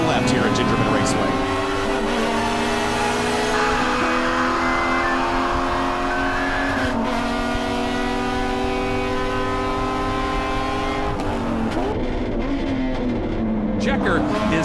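Race cars roar through the final corner at Gingerman Raceway, several engines droning loud and close with shifting pitches as they sweep past, while a commentator talks over them throughout.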